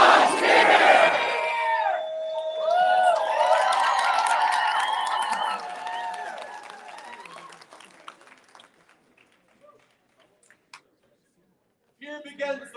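A large crowd at a medieval-style coronation court shouts and cheers in unison, loud and reverberant, then the roar fades away into quiet with a brief burst of voices at the end.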